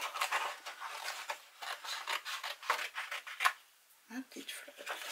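Scissors snip around a paper flower cut-out, a run of small crisp cuts and paper rustles close by, with a brief pause before a few final snips.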